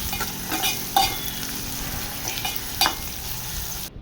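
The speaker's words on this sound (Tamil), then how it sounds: "சேர்த்து நல்லா வதக்கிடலாம்" Two green chillies sauté in hot oil in a pan for a fish curry, giving a continuous close sizzle with a few brief sharp spatters, ending abruptly.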